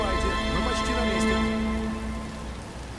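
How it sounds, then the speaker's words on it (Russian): Rain begins to fall in the video game Batman: Arkham Asylum, a steady close hiss of drops spread across the full three seconds, mixed with sustained tonal game sound beneath it. "Но ведь дождь начинается, и Брюс устал."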